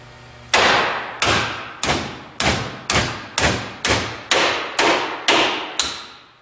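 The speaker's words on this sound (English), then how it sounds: "you want to hit right on that star with your brass hammer so that the most direct force can remove the end" Brass hammer striking the star end of a UTV CV joint to knock it off the axle: ten sharp metallic blows at a steady pace about every half second, close and loud, each ringing briefly before the next.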